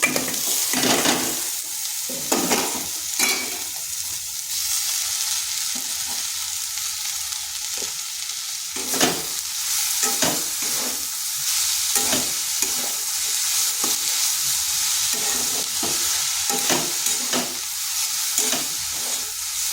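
Drumstick (sajne) greens are stir-fried in a pan with green chillies, a loud steady sizzle punctuated by repeated scraping stirs of a spatula, close and without talk.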